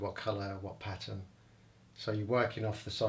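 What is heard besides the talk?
None of the usual background noises is heard.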